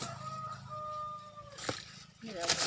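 A chicken clucks and calls in a few drawn-out, tonal cries near the start, followed by rougher squawks toward the end, with people talking nearby.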